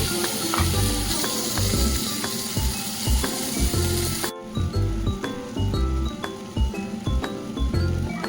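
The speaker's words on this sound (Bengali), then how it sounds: "ফোড়নটা তেলের মধ্যে ভাজা হয়ে গেলে পেঁয়াজটা দিয়ে দেবো" Onion, tomato and chilli sizzle steadily in hot oil in a pan, with a continuous loud frying hiss broken by clinks and scrapes of a utensil, briefly dropping out partway before resuming.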